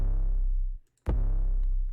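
An unmixed 808 bass sample from a song plays as two long, booming, deep tones split by a brief silence, clean and loud with no other sounds.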